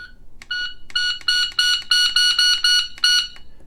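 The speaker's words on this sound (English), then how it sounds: "You got the beeper volume, and this thing's pretty loud." A Pocket Pro II shot timer's beeper set to full volume gives a run of about eight loud, shrill electronic beeps at close range. The bursts are short and closely spaced, with a slightly longer final tone.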